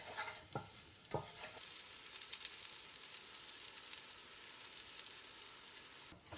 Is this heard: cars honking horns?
no